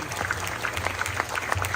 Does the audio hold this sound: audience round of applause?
yes